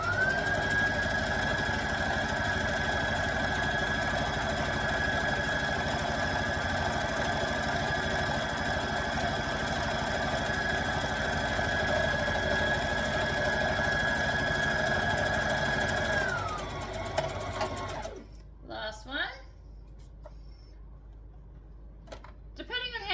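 A sewing machine hums in a long, even run while stitching a dress, close and steady, winding down near the end before a few soft clicks and handling sounds, with a voice talking over part of it.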